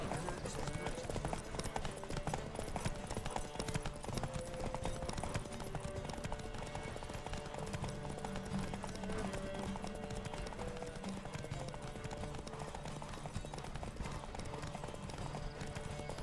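Galloping horse hooves in The Witcher 3 video game during a horse race, a steady clip-clop drumming on and on over game music and ambience, fairly quiet in the mix.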